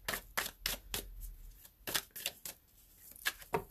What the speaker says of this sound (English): I'm still shuffling, so sometimes I shuffle for a bit.